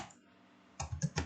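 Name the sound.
typing a password on a computer keyboard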